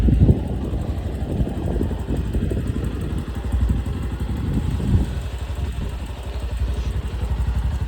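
A modified 2024 Bajaj Pulsar NS125 motorcycle idles close by with a steady, throbbing, slightly uneven engine note that runs without a break and has some wind rumble on the microphone.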